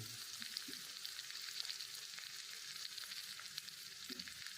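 Chutney spice mix hitting a hot frying pan while cooking pathri vegetable curry, giving a steady, close sizzle and fry hiss throughout with faint stirring scrapes.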